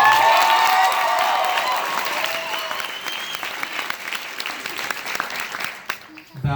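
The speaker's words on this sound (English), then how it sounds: "Big Wave Dave, let's give this your man a round of applause." An audience applauds and cheers for a departing man at a farewell celebration, the clapping loud at first and thinning over several seconds, with a few voices and whoops mixed in before it fades.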